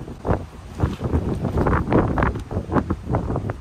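Strong wind at a beach campsite on Galveston Island blasts across the microphone in heavy, continuous gusts, buffeting loudly throughout with no speech.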